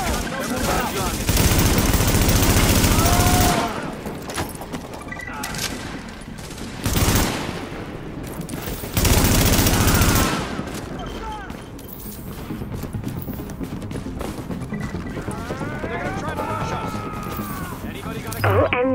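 Heavy automatic gunfire rattles through Tom Clancy's The Division in Manhattan. Several long, loud volleys and shorter bursts alternate with quieter stretches, mixed with voices talking and shouting.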